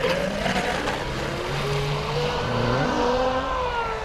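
SonicWake V2 boat motor with turn fins running at full throttle, a loud continuous whining drone with shifting pitch and steady, close, unbroken intensity.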